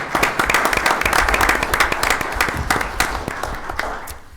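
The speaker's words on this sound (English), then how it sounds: "I'd like to just give our whole entire local government, all of our department heads and workers a big hand clap" Council meeting audience in Penn Hills gives local government staff and workers a round of applause: a modest room of hands clapping with distinct individual claps, fairly close, thinning out toward the end.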